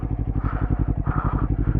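A sports motorcycle engine runs close up with a steady, throbbing beat of rapid low pulses, loud and alone with no voices over it.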